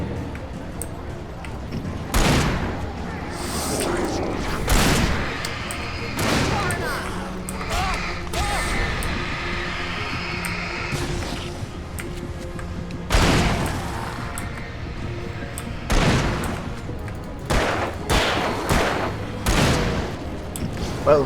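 Gunfire in the Alan Wake video game: repeated loud, sharp shots spaced irregularly across the clip, each a broadband burst, over continuous game ambience with a voice talking in between.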